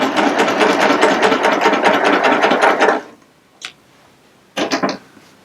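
Baby Lock Applaud Creative Top Cover Stitch Serger running a zigzag stitch: a rapid, even mechanical chatter for about three seconds, then silence broken by a single click and a short final burst of stitching.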